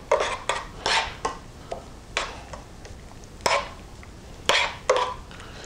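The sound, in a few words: stirring butter and parsley into peppered steak sauce in pan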